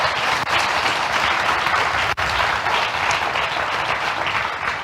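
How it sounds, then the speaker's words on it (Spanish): A church congregation gives the Lord a loud, sustained round of applause, dense clapping that fills the space steadily without talk, with a brief dip partway through. "Dale un fuerte aplauso al Señor"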